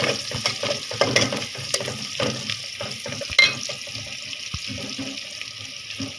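Onions sizzle in a hot pan with scattered crackles and pops, broken by a few louder stirring scrapes.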